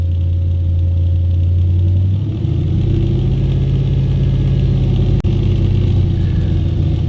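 An Audi RS4 engine warms up at a steady idle, loud and close, with a shift in pitch about two seconds in and a short click near the end; no one speaks.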